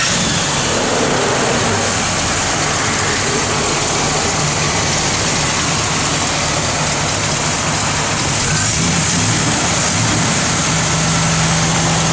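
A 1968 Cadillac DeVille Convertible's engine idles steadily for about twelve seconds, partly masked by a loud, constant hiss that sounds like rain, with no talking.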